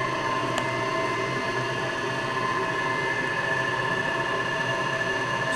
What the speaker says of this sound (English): So we're running the big blower at 25 hertz right now.